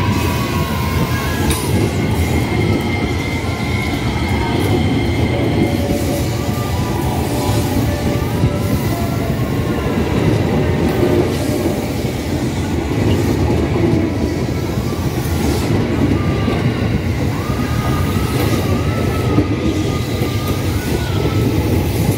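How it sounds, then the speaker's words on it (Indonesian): A JR 205 series electric commuter train rolls past at close range for the whole stretch, a steady loud rumble with wheel clatter and faint metallic squeals, no voices. "Kita jegat pengiriman kereta KRL yang batik dari Solo Jawa Tengah menuju ke Depok."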